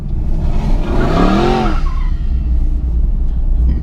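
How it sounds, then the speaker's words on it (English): A Mercedes SLS drives past with a loud engine note that rises and falls in pitch for about a second, then fades into a steady low rumble of road and engine noise. "That was Sid in the SLS"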